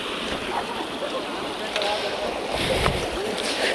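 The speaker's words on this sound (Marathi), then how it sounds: "मग एवढंच एक पाणी इथं ते चांगलं वाहू राहिलंय" Water pours steadily over a village weir, a continuous close rushing and splashing with some wind buffeting the microphone, and a voice talks faintly beneath the flow.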